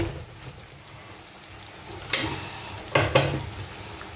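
Fried biuli dal puli dumplings being stirred into thick jaggery syrup in a pan over low gas, with a soft continuous bubbling sizzle and a few sharper clinks of the spoon near the end.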